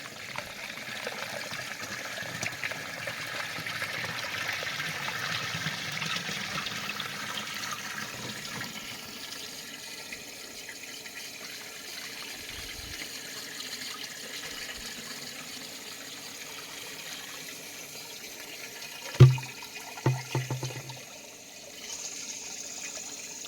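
Water mixed with waste decomposer flows through a drip venturi system for an oil palm plantation, a steady low gushing hiss lasting throughout, with a few brief knocks near the end and no speech.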